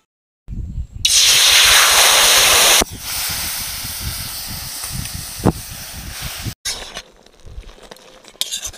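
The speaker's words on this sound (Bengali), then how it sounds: "প্রথমে আমি কড়াইতে জল দিয়ে এই লাউ পাতাগুলো সিদ্ধ করে নেব।" Bottle gourd leaves go into water in a wok on a fire, with a loud burst of hiss at first that settles into a steady bubbling rush with occasional clinks, close and without talk.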